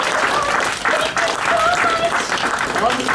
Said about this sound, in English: anyone want to give a final round of applause for Fluttershy?